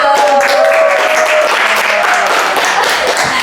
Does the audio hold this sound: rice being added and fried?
no